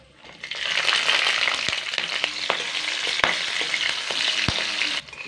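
Green chillies fry in hot oil with five-spice seeds and two bay leaves, giving a loud, continuous close sizzle. A few sharp clicks of a spoon cut through, and the sizzle stops abruptly near the end.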